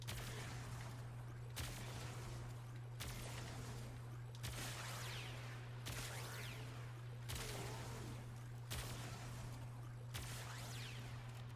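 An Opticor Vandal charged beam weapon fires in the shooter Warframe, sounding as roughly eight evenly spaced heavy blasts, each with a long bright ringing decay over a constant low hum, with no talk.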